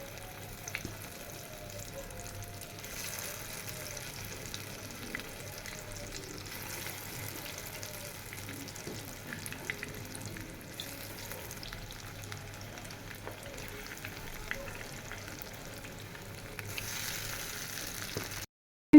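Chicken pieces frying in hot oil over low heat, a soft, steady sizzle with faint crackles and an occasional splash or clink, fairly quiet and constant throughout.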